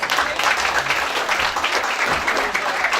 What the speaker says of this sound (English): would you please give yourselves a huge round of applause?